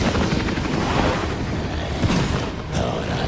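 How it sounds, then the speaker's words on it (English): Helicopters lifting off a rooftop in Batman: Arkham Origins, a loud dense rotor roar with rumbling bursts that stays constant throughout, with no talking. "We follow him to the roof, where his helicopters take off with everyone except Killer Croc."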